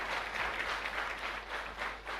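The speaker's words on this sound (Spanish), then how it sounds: "Fuerte aplauso para nuestra Madre" A congregation at a live Mass in the Immaculate Conception chapel claps together, a fairly soft, continuous patter of many hands with slight swells, heard alone.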